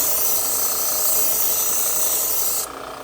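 A kitchen knife is drawn across a sharpener in one long, steady grinding rasp, loud and close, that cuts off abruptly near the end.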